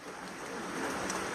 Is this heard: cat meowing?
no